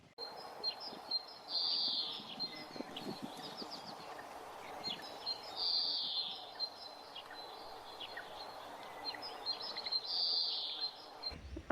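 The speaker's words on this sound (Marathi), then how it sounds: "इथे पक्ष्यांचे वगैरे आवाज आहेत ना" Birds chirp outdoors beside a lake near Mumbai, with high repeated calls in three brief bursts over a soft steady ambient background; no talking.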